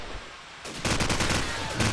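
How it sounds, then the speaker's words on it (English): AK rifle fire in Call of Duty 4, a quiet lull broken by a loud, rapid automatic burst that keeps rattling close and dense to the end. "Cox firing off his AK yet again"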